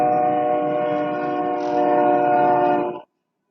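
A single long, loud train horn blast, steady and close, held for about three seconds before cutting off abruptly into silence.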